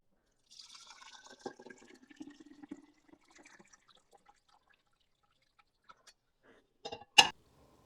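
Homemade chicken broth trickles and drips into a container in a quiet kitchen, a thin stream at first, then a few scattered drops and a brief, louder splash near the end.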